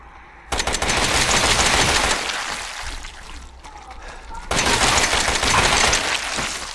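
Rapid automatic gunfire from a gun in Resident Evil 7, loud bursts of sustained shooting that fade briefly mid-clip before a second heavy burst resumes, with a voice audible underneath.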